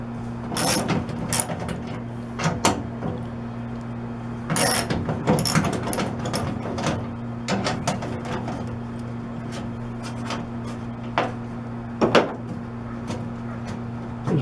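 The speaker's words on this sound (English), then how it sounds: "The tailgate still doesn't want to stay shut, so I'm going to remove the latch." Tailgate latch bolts being removed by hand on a tailgate that won't stay shut, with scattered sharp metallic clicks and ratcheting taps against a steady low hum, mostly without speech.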